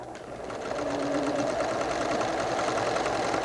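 A sewing machine runs steadily, stitching a second row along the back edge of a sweater, its fast even whirring rising in and holding without talk.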